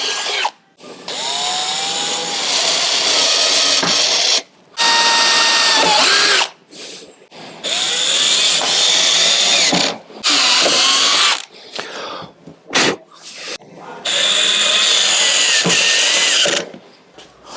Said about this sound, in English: Let's try and drill out a couple more.